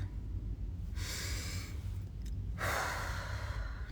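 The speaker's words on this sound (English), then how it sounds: "It means just to take a moment, a deep breath." A person takes slow, deep breaths, with a long audible inhale and a sighing exhale, close and quiet against a low background hum, no talking.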